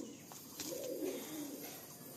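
Madrasi and Andhra pigeons coo softly and faintly, a low murmuring call swelling briefly in the middle over a quiet background hiss.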